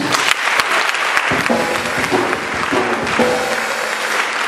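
A church congregation applauds Jesus during a French-language worship service, with dense, sustained clapping from a large crowd filling the whole stretch at steady loudness.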